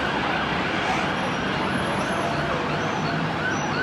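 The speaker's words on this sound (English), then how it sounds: "A siren's not very medieval, is it?" An emergency vehicle siren sounds along a street in a historic English town, loud and continuous over steady traffic noise, with no talking.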